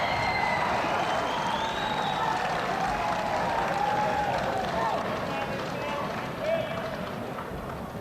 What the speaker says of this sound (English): Nice round of applause for Tom Tomio from Grove City as he went back to his seat after his victory.